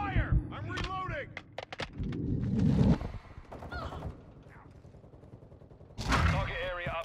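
Gunfire in the video game Modern Warfare 2: bursts of sharp shots and rattling automatic fire, near and loud, with heavier blasts between and game voices calling out amid the combat.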